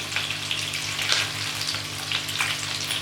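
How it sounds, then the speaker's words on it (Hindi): Fish pieces frying in a pan for a fish curry, a continuous close, even sizzle and crackle of hot oil with faint spatters, a low steady hum beneath. "अब 2 मिनट हम इसको इधर से फ्राई होने देंगे"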